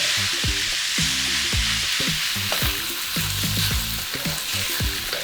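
Mixed mushrooms frying in bacon fat in a pan, a steady loud sizzle with frequent stirring scrapes and clanks, close up and uninterrupted, no voices.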